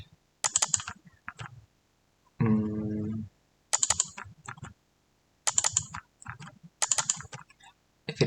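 Keyboard typing comes in several quick bursts of key clicks while a short line of code is entered on a computer, with a brief low buzzing hum in the middle and no talking.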